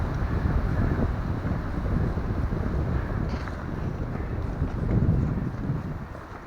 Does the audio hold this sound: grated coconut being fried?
no